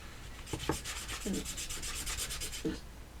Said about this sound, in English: Put some on and rub it in.